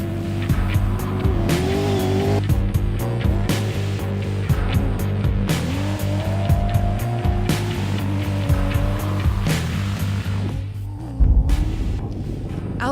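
Rally cars and trucks racing over desert dunes at the Dubai International Baja: continuous loud engine roar with revving pitch changes and gear shifts, close and dominant, with sandy rushing noise underneath.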